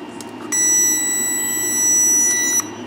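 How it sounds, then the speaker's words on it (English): An electronic circuit tester plugged into the battery of a 2017 GMC Denali beeps with a steady high-pitched electronic tone, lasting about two seconds at close range over a faint background hum. "we don't want that thing beeping"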